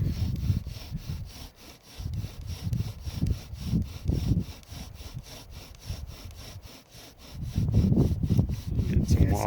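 A primitive wooden bow drill spindle rubs back and forth in a wooden hearth board, making a steady run of rhythmic, raspy friction strokes up close, with a rope bowstring slightly slack on the spindle.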